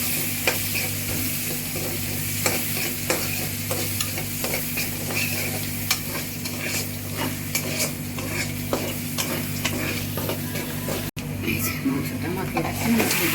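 Beef, cut for a taro-and-beef curry, is mixed and stirred in a pot with a steady scraping and faint sizzle, repeated spoon strokes throughout, while a voice speaks over it and a low hum runs underneath.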